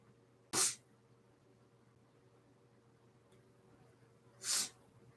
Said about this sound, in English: Big sneeze, big sneeze.